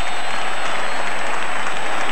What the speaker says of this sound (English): A tremendous cheer for Guy Kibble.